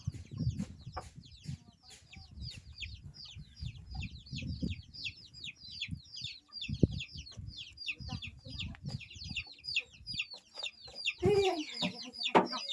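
Chickens cluck and chatter continuously in a rural Thai farmyard, many birds close by with dense overlapping calls, with a louder squawk near the end and faint background voices.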